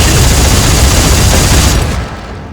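Ripcore launcher and machine gun firing together in the sci-fi horror shooter Dead Space 3, a dense, very loud burst of rapid gunfire that holds steady before cutting off near the end.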